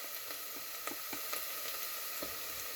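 Onion, garlic and ginger sauté in a hot pan, giving a steady close sizzle with faint scraping stirs throughout, no voices.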